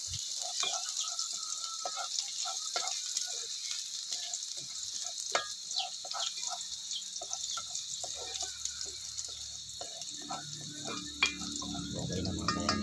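Ginataang labong, bamboo shoots in coconut milk with shrimp, sizzles steadily in a pan while a utensil scrapes and stirs in scattered clicks, close and moderately loud, with a voice briefly speaking.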